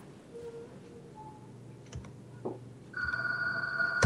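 A phone rings faintly indoors, a steady electronic tone starting partway through, after some quiet clicks and taps in the background.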